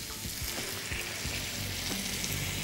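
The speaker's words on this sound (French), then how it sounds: "On va déglacer avec le vin blanc." White wine hits a hot pan of rabbit legs and skin-on new potatoes, setting off a continuous, even sizzle and crackle of frying with faint stirring underneath.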